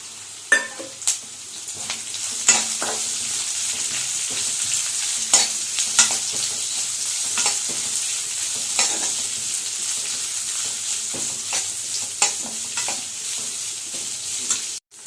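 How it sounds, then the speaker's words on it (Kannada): Onions sizzle in a pan on a constant, hissing bed of frying, while a utensil scraping and stirring them lands in sharp, irregular strokes every second or two, close by. "ಈರುಳ್ಳಿ ಫ್ರೈ ಆಗ್ತಾ ಇದೆ"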